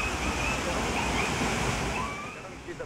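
Rough Arabian Sea surf surges against the Kanyakumari coast near Kollengode during heavy rain. It makes a continuous loud roar of churning, crashing water with no pauses.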